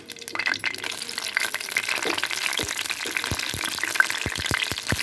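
Dried red chillies fry in a hot oiled kadai, a steady close sizzle scattered with crisp pops and crackles that grow more frequent toward the end.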